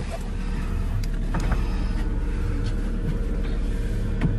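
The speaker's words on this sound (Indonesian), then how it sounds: "Kita buka dulu spionnya ya." Electric side mirrors unfold on a Daihatsu Terios type R, a brief motor whir heard over the steady rumble of the car's running engine, with a few faint clicks.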